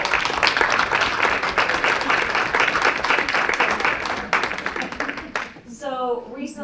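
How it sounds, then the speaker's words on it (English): Steady applause from a school board meeting audience honoring Angie Gray, dense and continuous for about five seconds before fading, followed by a brief spoken voice. "I think we should give her a round of applause."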